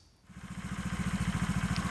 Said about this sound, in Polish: No i zaraz wyprowadzę motocykl. Sprawdzimy, jaki ma dźwięk teraz.